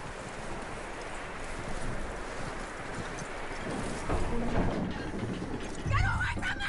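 Horse hooves clop over rough ground in the video game Red Dead Redemption II, beneath a steady wash of wind and ambient noise, with a brief voice near the end.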